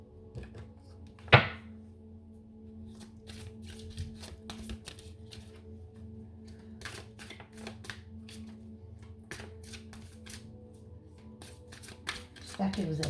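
Tarot cards are shuffled and handled in a quiet room, giving soft riffles, light flicks and taps spread across the stretch, with a low voice murmuring underneath.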